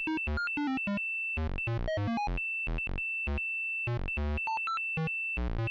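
Two synthesizer tones from a VCV Rack patch: a constant high beep held underneath a fast series of random-pitched computer bleeps, bright, electronic and close.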